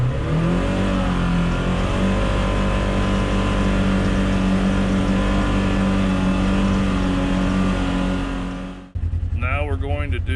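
A 2024 RZR XP 1000 side-by-side fitted with an Aftermarket Assassins dual muffler revs up and holds a loud, steady engine drone for about nine seconds, then drops off sharply, leaving a brief quieter idle.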